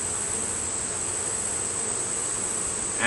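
Honey bees buzzing inside a hive while it is opened for inspection near the end of summer, a soft, continuous hum with no voices, and a brief louder rustle right at the end.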